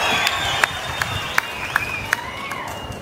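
A crowd at a public meeting held by Chief Minister Chandrababu Naidu claps in a steady rhythmic beat, about six sharp pulses, over a sustained murmur of voices and tonal calls.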